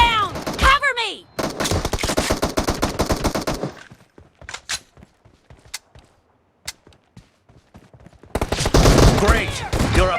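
Shooting in PUBG Mobile, where a dense, loud string of rapid gunshots gives way to sparse, scattered single shots in near silence before another heavy burst of fire; a voice is heard briefly.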